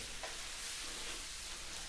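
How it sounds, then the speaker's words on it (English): Beef steak sizzling in avocado oil in a hot pan, a steady, faint, even hiss of frying with no talking. "You hear that sizzle"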